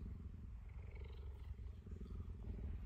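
Cheetah purring and vocalizing up close, a low continuous pulsing rumble with soft throaty tones, faint and steady throughout.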